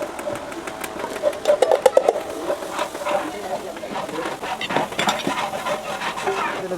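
Coriander powder is stirred and roasted in oil beside pushed-aside onions in a large pot of chicken curry for seventy people. A spoon scrapes and clatters against the metal amid a soft sizzle, while a voice talks throughout.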